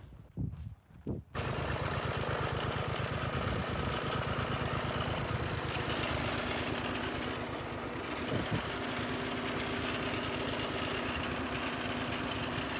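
A farm tractor pulling a trolley runs with a steady, loud low engine rumble that continues unbroken after a few brief knocks at the start.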